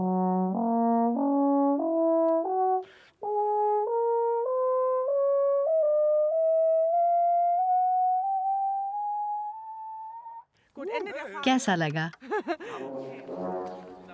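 A woman musician plays an ancient horn at a rooftop concert in Germany, sounding a sequence of loud sustained brass notes that climb in steps with one short break, before a voice speaks briefly at the end.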